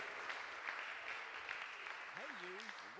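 Applause from spectators at a para shooting world championship in Lima, a women's 10m air pistol event, sounds faint and distant under a hall announcer's voice, with a short speaking tone rising near the end.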